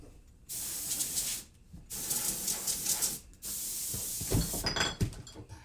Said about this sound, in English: for the keyboard, the air spray